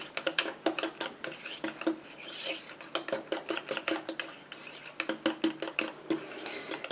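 Quick, repeated scraping clinks of a utensil against a bowl as a biotin cosmetic preparation is stirred, close and busy, with a brief softer smear in between the strokes.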